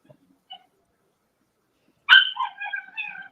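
A dog gives one sharp bark followed by a short whining yelp, close and clear against an otherwise silent background with a couple of faint earlier sounds.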